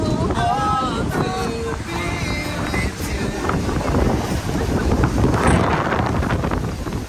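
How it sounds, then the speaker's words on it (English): Strong wind buffets the microphone in a constant low roar at the seaside at high tide in Bali, with a few faint tonal chirps early on and a gust building midway. "Ooh, it's windy, very windy."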